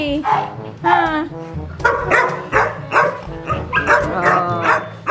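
Several excited Shih Tzu dogs bark, yip and whimper close by indoors, in bursts of high-pitched yelps, while a person talks over them.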